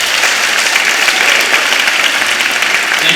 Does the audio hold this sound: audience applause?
yes